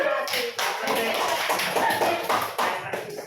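A burst of applause from a classroom, with quick overlapping hand claps rising and falling over about three seconds while voices talk at the same time.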